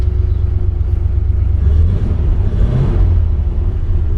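An original 1940 Ford Standard Coupe engine runs at a steady idle, a loud, continuous low rumble heard close by with no voices over it.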